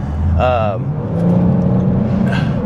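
A highly modified, stage 3 tuned Kia Stinger GT2 engine revs moderately, a low rising hum that sits under someone talking close by.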